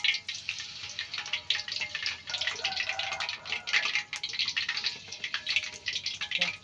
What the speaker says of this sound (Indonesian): Ayo kita goreng gedang.